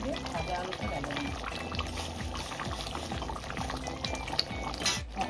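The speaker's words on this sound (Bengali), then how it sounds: "মাংসটা নিয়ে ভাজা আলুটা ঢেলে দিই" Fried potatoes being poured into a pot of slow-cooked mutton curry, a soft wet slide and bubbling stir under a steady rumble of background noise, with a sharper clatter near the end.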